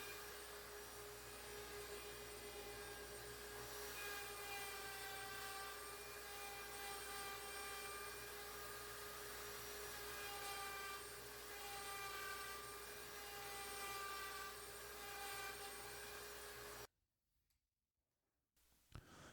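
A router mills the inside of a 16x16 oak tom drum shell, a loud, steady high-pitched whine with a dense woody grinding texture that runs continuously before cutting off abruptly near the end.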